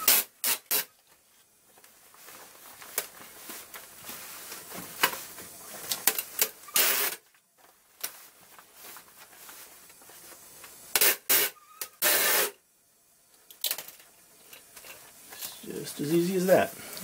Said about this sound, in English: use some tape, run it around the outside of the mirror, and make a dam